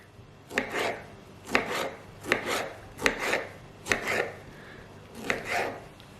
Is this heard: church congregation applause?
no